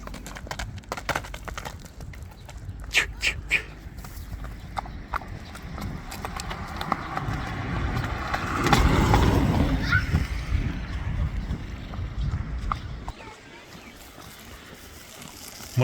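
A horse's hooves clip-clop steadily while it is being ridden, the hoofbeats close and fairly loud over a noisy outdoor background.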